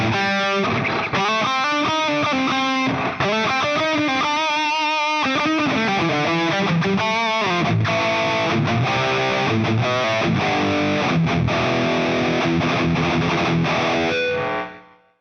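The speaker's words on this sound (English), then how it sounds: "I'm going to activate the modulation, delay, and reverb on my 11 rack" Heavily distorted high-gain electric guitar through a Hotone Xtomp Mini plays a riff, with a shimmering, swirling modulation and echoing repeats trailing into a reverberant tail before fading out.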